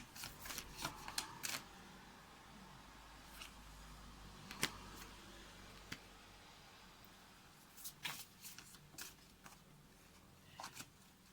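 Tarot cards shuffled by hand in quiet, irregular bursts of crisp riffling and slapping, with a few sharper taps and pauses between the shuffles, no talking.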